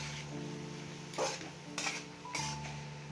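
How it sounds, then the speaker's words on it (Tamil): Boiled vegetables for a samosa filling are stirred in a metal pan, the spoon scraping and clinking against the sides in a few distinct bursts over a steady low hum, with no talking. "இப்போ நல்லா கலந்துக்கோங்க."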